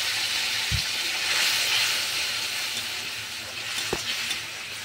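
Cardamom and other whole spices frying in oil for a tempering, a steady close sizzle and hiss throughout with two brief low knocks from stirring or the pan.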